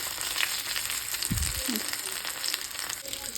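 Bangude mackerel coated in masala fries on a tawa with little oil, a steady close crackling sizzle, with a brief low clatter partway through and no talk.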